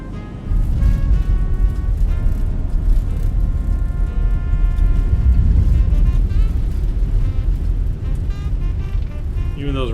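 Low engine and airframe rumble inside the cabin of a Fenix A320 airliner landing in a flight simulator game, a steady loud roar with tonal hums that continues unbroken throughout.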